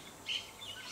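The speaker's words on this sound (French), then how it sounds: "le chant des oiseaux" Faint high chirps of songbirds come from a distance in a brief quiet outdoor moment, a couple of thin tweets over soft background hiss.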